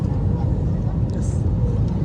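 Steady, loud low-pitched roar and hum of an airliner cabin just after takeoff on a Dammam to Kochi flight, a dense rumbling drone filling the short stretch.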